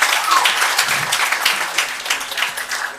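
An audience at a live event in Kenya claps after an entertainment performance, a full burst of applause that swells early and slowly thins toward the end.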